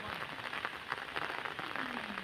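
Rain falls steadily on a road in Laos, a dense pattering hiss of drops hitting surfaces, fairly faint and continuous, with no talk over it.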